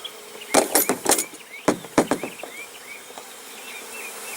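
Honey bees buzz around a hive as they are scooped into a half-cup measure for a varroa mite alcohol wash, with sharp scraping and knocking clatters over a thin background buzz.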